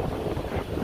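Strong wind buffets the microphone in a continuous low roar in Yosemite, loud and close, with no voices.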